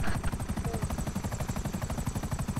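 Helicopter rotors chop rapidly and loudly in Grand Theft Auto V, a steady pulsing thump throughout with no speech.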